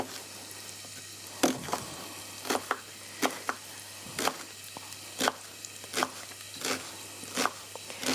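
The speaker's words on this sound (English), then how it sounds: "just chop it up" A knife chops vegetables and shallots on a wooden cutting board in a home kitchen, giving a dozen or so sharp, close, irregular thuds over a faint steady hum, with no talking.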